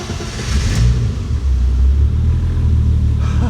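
A BMW E30 325i turbo engine cranks and catches, settling into a loud, deep, steady rumbling idle close by with no talk.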